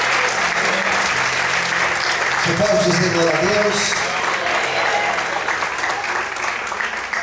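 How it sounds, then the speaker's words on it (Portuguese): A church congregation applauds loudly and steadily at an evening service, with a voice speaking over the clapping partway through. "Você pode aplaudir o Senhor nessa noite?"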